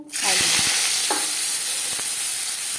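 Potato pieces drop into three spoons of hot refined oil, setting off a loud, steady sizzle with a few soft stirring knocks near the start.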